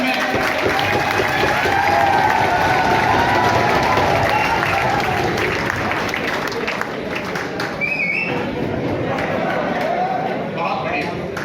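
Loud applause from a standing audience at a book release ceremony with the state governor present, dense clapping mixed with crowd noise, scattered cheers and a whistle, with voices heard over it.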